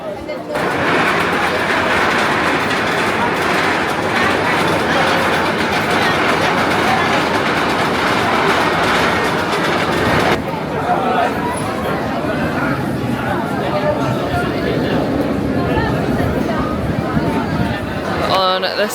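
Loud, continuous rumble and rattle of the Dragon Khan roller coaster train running on its track at PortAventura, with crowd chatter mixed in throughout.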